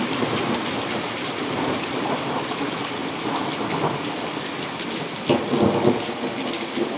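Heavy rain pours down steadily in the San Diego area while thunder rumbles low and continuously, with a louder roll near the end.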